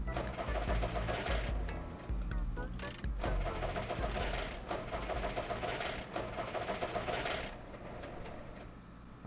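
In The Long Drive video game, a car engine cranks and turns over with a loud, close, uneven churning of whirs and clunks that lasts around nine seconds.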